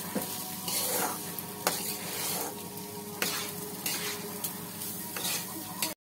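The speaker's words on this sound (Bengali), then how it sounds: "এবার এটাকে ভালো করে" Spiced rice with whole spices fries in a hot pan, sizzling steadily while a spoon stirs and scrapes it in repeated strokes, close and clear.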